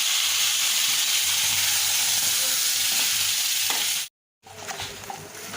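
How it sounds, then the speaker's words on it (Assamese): Spices (cumin, curry leaves and ground paste) stirred and frying in a pan, a steady close sizzle and hiss with light scraping, briefly cutting out near the end before resuming. "গোটেইখিনি আমি অকণমান ধুনীয়াকৈ লৰাই দিছোঁ"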